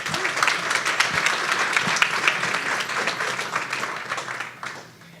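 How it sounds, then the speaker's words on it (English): An audience at an innovation demo day applauds as a startup team takes the stage. Many hands clap in a full, steady burst that holds and then trails off at the end. "Let's give them a round of applause."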